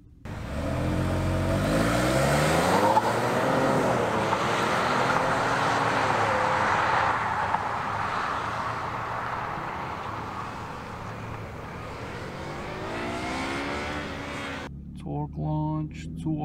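A Lincoln MKZ AWD with a 3.0L engine makes a torque launch, its engine droning and climbing steadily through a long pull in rising waves as the car accelerates hard, with occasional voices in the cabin.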